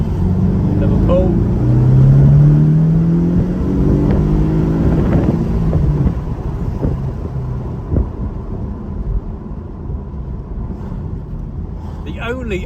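A Porsche 718 Cayman four-cylinder engine and exhaust rising in pitch under acceleration, loud for the first several seconds, then dropping to a lower rumble with a voice talking over it.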